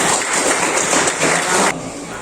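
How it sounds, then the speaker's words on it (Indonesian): A classroom of students claps together in a dense burst of applause that cuts off sharply after a couple of seconds, leaving quieter room noise. "Terima kasih. Tepuk tangan."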